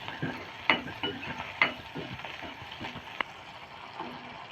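Green chillies, cut in two, sizzle gently in a pan while being stirred, with soft scraping strokes and a few sharper clinks of the spoon against the metal over a steady low fry.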